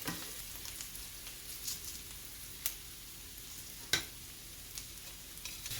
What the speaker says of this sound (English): Now we're going to add the garlic.